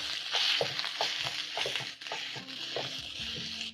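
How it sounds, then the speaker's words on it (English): Lean minced meat for a stew with green beans fries in a pan, crackling steadily while a spatula scrapes and breaks it apart in repeated close, rhythmic strokes, with no voices. "Use your spatula and break down the minced meat into smaller pieces."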